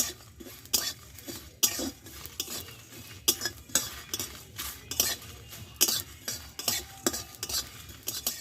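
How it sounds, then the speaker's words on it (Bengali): Poppy seeds and Bengali five-spice frying in a pan, with a constant sizzle under roughly fifteen rhythmic metal spoon scrapes and clinks, close and clear, no talking. "এক চামচ মতো পোস্ত আর দেবো এক চামচ মতো পাঁচফোড়ন দিয়ে এটা একসঙ্গে ভালোভাবে ভেজে নেব"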